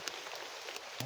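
Heavy rain pours down in a steady, dense hiss throughout, with a few sharper drop impacts standing out and no voices heard.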